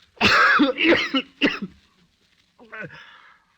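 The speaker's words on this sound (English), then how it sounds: "Oh, it's that blasted cough." A few harsh coughs in quick succession, close by, followed after a pause by a weaker cough or throat sound.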